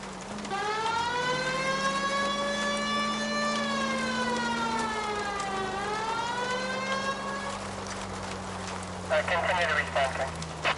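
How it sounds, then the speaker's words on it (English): Police car siren from the video game L.A. Noire, a loud wailing tone rising and falling continuously for about eight seconds, with radio dispatch chatter and other game sounds beneath and around it. "Please, Phelps, the siren."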